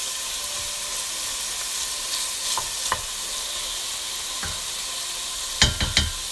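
A small piece of cut meat fries in a pot for a white bean stew, giving a steady close sizzle, with a few sharp utensil clinks and scrapes near the end.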